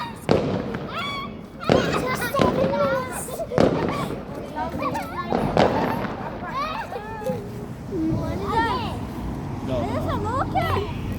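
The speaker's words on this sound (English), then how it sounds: "Firework." Bonfire night fireworks bang in a string of sharp, close bursts, with excited voices and children talking and exclaiming between the explosions.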